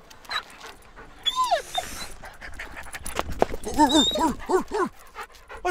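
A dog pants in quick breathy bursts close by and lets out several high, wavering whimpers and whines, with short stretches of rustling between them.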